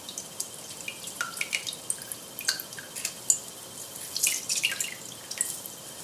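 Water drips and trickles from a hand squeezing a wet seed bomb mixture of paper pulp and seeds, small irregular patters close by and faint, with no talking.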